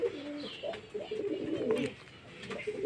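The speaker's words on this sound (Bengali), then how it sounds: "দেখুন এখানে পায়রা আছে 11টা পায়রা আছে।" Several pigeons coo close by in a loft of about eleven birds, their low throaty calls repeating and overlapping steadily with faint higher chirps over a quiet background.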